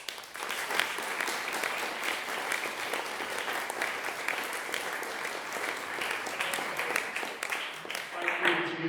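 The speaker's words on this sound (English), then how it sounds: "Give them a round of applause." Sustained applause from a concert audience at a brass ensemble performance, dense steady clapping filling the hall for about nine seconds without letting up, tapering slightly at the very end.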